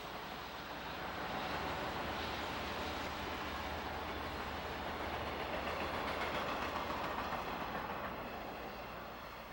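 A diesel-powered freight train with a pair of mid-train diesel helper locomotives rolls past, a steady, broad rumble and wheel clatter that holds at moderate distance throughout.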